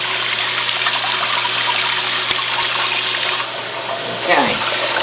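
A home toilet tank refills after a flush with a steady, close rush of running water. The flow holds evenly, then shifts to a gurgling trickle near the end, and no one speaks.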